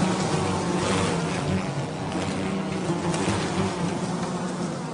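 A bee swarm gives off a dense, continuous buzzing drone, steady and close, with no talk over it.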